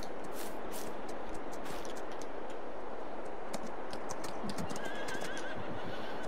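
Horses in the Farming Simulator 22 video game clip-clop steadily on the ground and let out neighs and whinnies, loud and continuous against a dense farm backdrop, with no talking.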